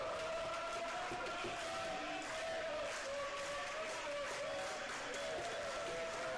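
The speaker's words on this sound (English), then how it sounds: "Always love me a good slow clap." Faint crowd noise at an indoor college tennis match, with a slow clap and a murmur of voices in the distance, steady and low in level.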